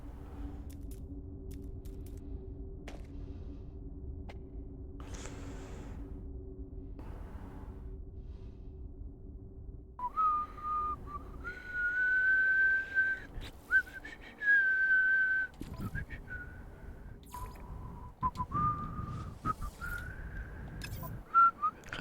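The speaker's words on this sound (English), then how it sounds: "Can't even do whistling at high pitch." A person whistling at a high pitch, sustained wavering tones coming in during the second half over low background hum and intermittent mechanical clicks from No Man's Sky gameplay.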